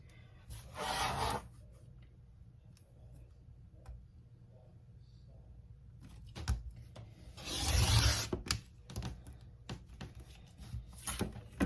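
A fabric strip cut for a baby quilt gives two rasping, scraping bursts, one short near the start and a longer one later, with quiet ticks and small handling noises between them.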